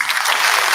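A brief burst of dense applause from a group on a live talk show, steady and fairly loud throughout.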